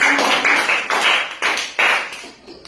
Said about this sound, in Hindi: ताली बजाओ, बहुत सुंदर।